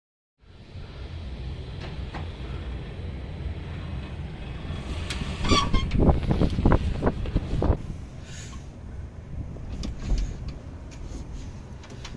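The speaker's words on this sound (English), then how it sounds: "the window cleaner lift driving in the Spider-Man Towers" A window-cleaning lift on a London rooftop tower at South Quay drives along with a steady motor whir, wind buffeting the microphone and a burst of clanks and knocks midway.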